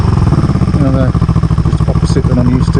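Kawasaki EN450 bobber motorcycle engine starting and running close by, a steady rumbling idle throughout with someone talking over it.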